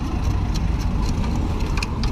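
Steady road traffic runs close behind a person working on a Rover 75's rear suspension arms outdoors, a constant low broadband rumble with passing tyre and engine noise and no talk over it.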